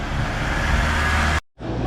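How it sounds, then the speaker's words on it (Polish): Road traffic near the Quinta da Regaleira in Sintra, Portugal, a loud, close, continuous rush of passing cars that cuts out briefly near the end and then resumes. "uwaga samochody"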